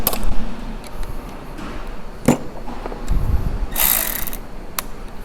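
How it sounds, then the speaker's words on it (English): A ratchet turns on a bolt in the engine bay of a 2011 Mini Cooper R56 with the N18 engine, giving close, quick mechanical clicking bursts among handling noises and a brief metallic clatter. "Let's get the ratchet ready."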